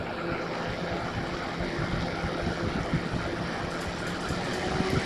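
A 140mm computer case fan runs at 80% speed, giving a steady, faint airy whoosh with a low hum, constant throughout with no voices.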